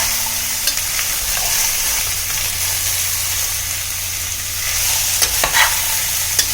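Thinly sliced beetroot being stirred in a pan, a loud continuous frying hiss with occasional scraping of the spoon, steady throughout.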